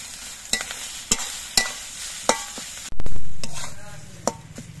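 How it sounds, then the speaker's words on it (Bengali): Mashed cabbage leaves being stirred with salt and turmeric in a pan, with repeated sharp spatula knocks and scrapes at an uneven pace over a low sizzle, then a sudden louder burst of frying. "এবার নুন হলুদ দিয়ে নেড়ে চেড়ে মিশিয়ে নেব"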